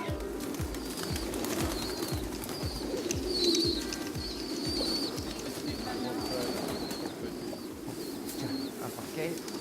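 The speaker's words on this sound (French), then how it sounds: "Actuellement, autour de nous, on a 480 couples de pigeons." Pigeons coo steadily in a dense chorus on a farm with about 480 breeding pairs, close and continuous, with occasional chirps and wing flutters over a busy background.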